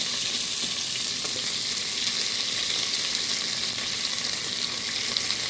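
Onion and green chili fry in hot oil with fennel seeds, a loud, continuous close-up sizzle with light crackling and occasional stirring, no voices.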